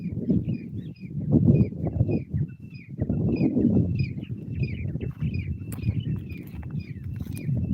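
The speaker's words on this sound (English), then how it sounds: "Do you hear the birds?" Scattered bird chirps repeat above a low, rumbling wind-like noise that swells and fades, with no talking.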